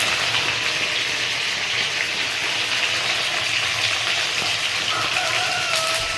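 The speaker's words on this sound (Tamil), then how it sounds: "ஒரு ரெண்டு நிமிஷம் அப்படியே வதங்கிட்டுங்க அப்புறம் தக்காளி போட்டுக்கலாம்" Oil sizzles steadily in a pan as ingredients sauté with rock salt for tomato rice, a dense continuous frying hiss without voices.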